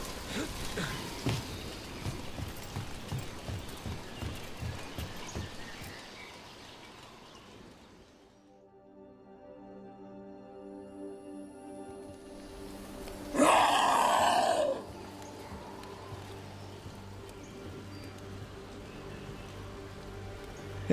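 Rain patters steadily in Dragon Age The Veilguard, a soft wash of drops that fades to near quiet midway, then returns with a short louder burst and continues gently to the end.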